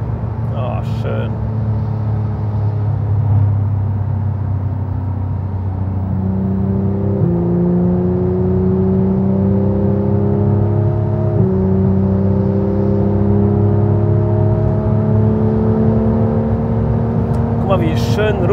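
Porsche 911 GT3 cruising at about 180 km/h, a steady engine drone and whirring road rumble from inside the cabin with a smooth upward gear-pitch sweep, continuous and loud, with people talking over it.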